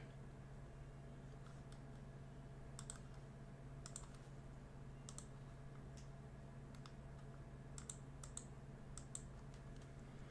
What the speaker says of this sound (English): Why are you typing random numbers?